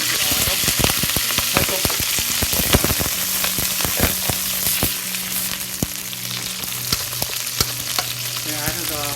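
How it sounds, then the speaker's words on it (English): Green onion and garlic fry in hot olive oil in a pot, a loud, steady sizzle with dense crackling pops and occasional stirring clatter throughout, with no voices. "When the oil is hot, we add the green onion,"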